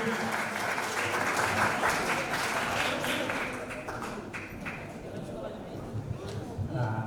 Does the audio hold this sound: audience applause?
yes